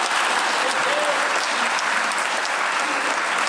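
Studio audience on a Bulgarian late-night talk show breaks into sustained applause, a dense steady wash of clapping from a large crowd lasting throughout, with no clear speech over it.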